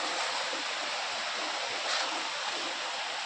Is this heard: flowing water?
yes